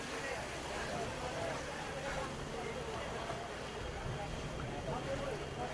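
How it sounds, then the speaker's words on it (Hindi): Heavy rain pours steadily onto a flooded street at Sadar Bazar, Delhi's big wholesale market, as a dense, even hiss of water with a constant wash of splashing and no pauses. "ये देखिए ऊपर से कितना कितना पानी बरस रहा है"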